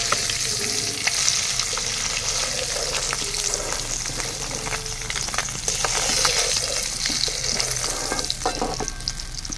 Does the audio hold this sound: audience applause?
no